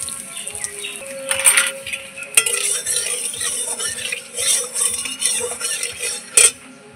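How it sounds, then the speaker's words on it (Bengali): Asafoetida added to a little hot oil in a wok while making potol kofta curry, with scraping stirs and metal clinks of a utensil over a faint, steady sizzle, close by. "একটু হিং দিয়ে দিলাম।"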